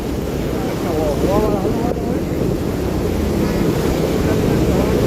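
Floodwater after heavy rain rushes through Vadli village near Mahuva, a continuous close roar of flowing water with wind noise on the microphone.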